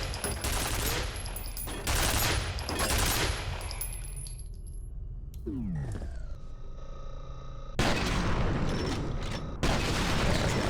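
An automated turret in the F.E.A.R. video game firing long bursts of rapid gunfire. A quiet gap and a descending mechanical whine break the bursts partway through, and then the firing resumes loudly.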